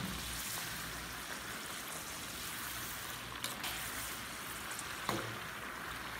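Murukku frying in hot oil, a steady continuous sizzle and bubbling hiss with a few faint clinks, no talk.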